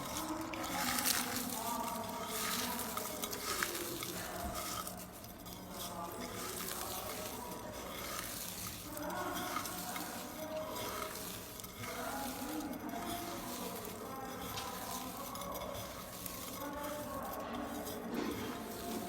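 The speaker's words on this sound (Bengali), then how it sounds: "এবার আমি মরিচটা ভর্তা করে নিচ্ছি।" Green chili being mashed with salt by hand for a Bangladeshi mixed bhorta: a continuous close squishing and scraping with irregular pressing strokes and soft gritty crunches, steady and moderately loud throughout.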